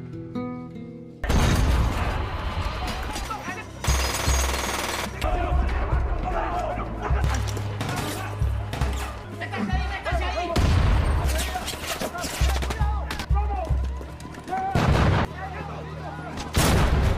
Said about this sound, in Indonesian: Pasukan khusus akhirnya menjebol gerbang. Baku tembak pun tidak terelakkan lagi.